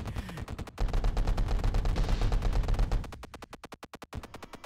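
Enemy ships in the space shooter Galaxy Ace open fire, a dense, rapid stream of repeated shots forming a continuous rattling barrage that breaks into distinct pulsing bursts toward the end.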